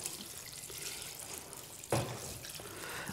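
Chicken soup poured from a pot in a kitchen, a steady liquid splash and trickle running without a break, with a brief louder slosh midway, close up and with no talking.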